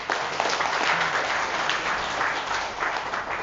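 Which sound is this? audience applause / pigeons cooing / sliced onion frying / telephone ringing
audience applause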